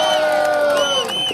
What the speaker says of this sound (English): Massive round of applause for Adam, guys!